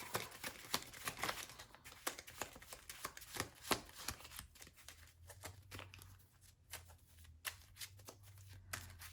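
A deck of Marvel Champions game cards being shuffled repeatedly, a run of crisp riffling bursts and soft snaps close by, with quiet pauses between shuffles and a low hum beneath.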